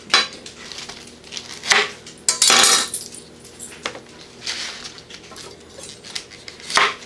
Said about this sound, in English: the first thing you'll need to do is cut off the stems, because you want them to sit flat in the pan